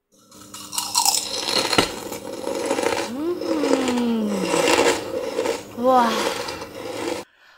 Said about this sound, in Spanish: ligeramente crujiente como habéis oído por fuera y súper tierna por dentro